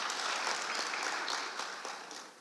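Audience applause fills a conference hall at a women CEOs' summit in Ghana, a dense, steady clatter of many hands clapping that tapers slightly toward the end, with no talk over it.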